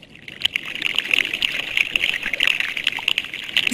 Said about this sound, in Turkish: Le son des bulles d'air qui s'échappent de la glace pendant que la glace fond sous l'eau.